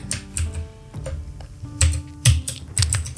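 Computer keyboard typing during a React JS coding session, a brisk run of uneven clicky keystrokes with short pauses, fairly close and clear, no voices.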